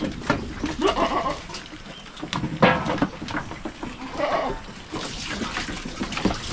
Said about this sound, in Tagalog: Pag umalis si Dayan, lumapit agad yung ibang mga kambing